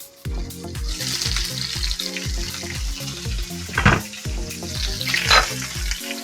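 Oil sizzles and crackles steadily in a pan frying small vendace fish, with a repeating low rhythmic thumping underneath and brief louder bursts of hissing.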